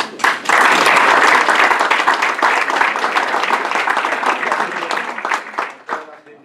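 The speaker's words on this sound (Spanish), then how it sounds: "yo les quiero pedir que le demos un aplauso a Ramiro" A lecture-hall audience applauds after economics conference presentations, with dense, loud clapping that starts abruptly and holds steady for several seconds before tapering off.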